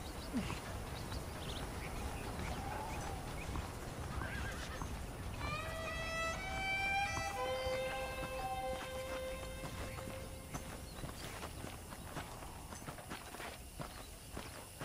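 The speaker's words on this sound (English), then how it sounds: "The horses are saddled up over here." A horse whinnies with a long descending neigh in the video game Red Dead Redemption, over a constant hissy background, with soft hoof clops and faint rustling nearby.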